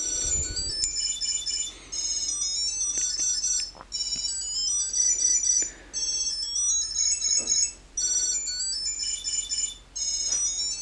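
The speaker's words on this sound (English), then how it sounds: "So you can hear over there that it is ringing." A Tile Pro Bluetooth tracker tag plays a bright electronic ring tone in steady bursts with short gaps, fairly loud and nearby, with occasional light handling knocks.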